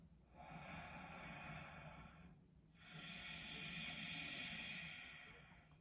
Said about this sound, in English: there's a kind of whisper sound, a constriction in the back of the throat